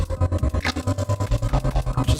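Pioneer X1800 DJ mixer with its sweep effect applied to a channel, a pulsing, rhythmic electronic loop with steady low throbbing beats and swept, filtered high hiss rising and falling, loud and without talk.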